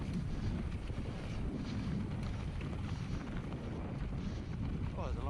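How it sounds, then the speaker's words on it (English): Strong wind buffets the microphone along a downhill skateboard course in Portugal, a steady, loud roaring rumble that fills the whole stretch with little change. "This is where the wind really picks up."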